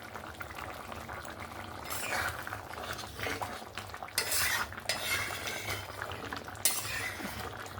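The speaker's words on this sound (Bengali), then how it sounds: "এবার আমি ঢাকনাটা খুলে নেব।" A lid comes off a pot of Bengali-style raw jackfruit and prawn curry after simmering, with a few metallic clatters and scrapes over a low, steady bubbling.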